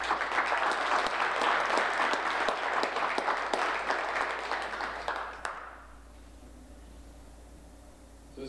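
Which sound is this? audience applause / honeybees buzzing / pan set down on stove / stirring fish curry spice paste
audience applause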